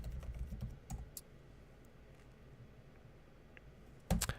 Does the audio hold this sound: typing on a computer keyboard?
yes